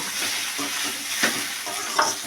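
Okra fries in a pan for a bendekai palya, crackling in a continuous near sizzle with soft scraping as it is stirred.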